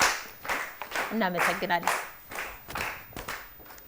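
An audience applauds students at an Ethiopian school quiz competition, with scattered bursts of clapping mixed in with a speaker's voice talking over it in a hall.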